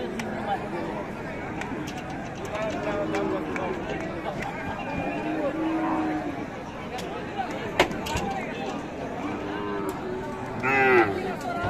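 Cattle low repeatedly at a busy livestock market selling Friesian and cross-breed bulls and calves, the moos rising over steady crowd chatter and people talking nearby.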